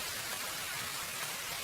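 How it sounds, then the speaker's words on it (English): Steady rain falling on street pavement, a dense, even hiss of small drops with no breaks or echo, heard alone with no voices. "Rain had begun to fall, small drops dying on the pavement without echo."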